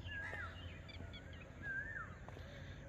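Faint bird calls drift through a quiet outdoor scene near a gurdwara: a couple of short, thin chirping whistles spaced apart over low background hush.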